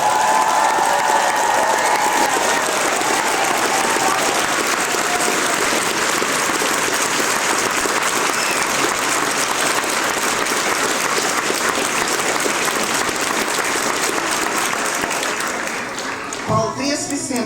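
Sustained, dense applause from a concert audience at a school national holiday concert, loud and continuous, tapering off near the end.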